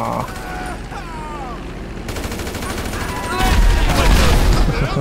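Gunfire rattles in GTA V during a flight scene: dense, continuous bursts of shots that swell louder toward the end, with a voice talking over the noise.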